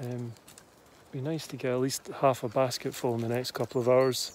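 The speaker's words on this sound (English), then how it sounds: "So peaceful, hear the birds singing, it's really nice." Someone talks steadily while birds coo softly in the background, the calls faint beneath his voice.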